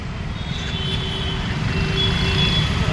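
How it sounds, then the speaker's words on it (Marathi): Busy evening road traffic on Lal Bahadur Shastri Marg opposite Ghatkopar railway station: a steady, loud rumble of truck and car engines close by, with a faint reversing beep threading through. "संध्याकाळची किती ट्रॅफिक असते किती वर्दळ असते"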